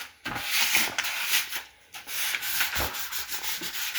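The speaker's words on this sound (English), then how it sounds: "Now he's sanding, as you guys can see." Sanding of old Honda CR-V trim pieces before painting, a steady close scratchy rubbing that comes in continuous strokes with brief pauses, loud and alone without talk.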